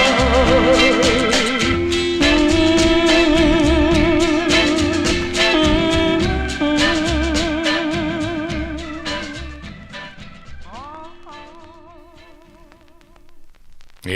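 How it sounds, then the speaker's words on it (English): Speak to Me of Love, a 1963 soul record by the Del Capris, plays with sustained vocal harmonies and warbling melodic lines over steady backing instrumentation, fading gradually toward the end. "That's the sound of the Del Capris"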